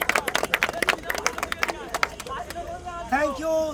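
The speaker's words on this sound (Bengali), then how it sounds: "সবাইটা হাততালি দাও, ছোট করে হাততালি" Audience clapping during a prize-giving ceremony at a football academy's opening match, scattered claps mixed with crowd chatter and a voice over a PA, the applause thinning into talk.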